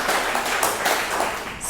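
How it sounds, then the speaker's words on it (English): Audience applause for poet Carrie at an ekphrastic poetry event with a writers' association, a dense, steady wash of many hands clapping close by, continuous for the whole moment with no talk over it. "let's give her a round of applause"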